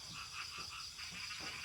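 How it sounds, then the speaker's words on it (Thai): A red-patterned Asian painted frog croaks in quick, rhythmic pulses, a steady, fairly quiet series with no voices over it. "รู้เสียงกบร้อง"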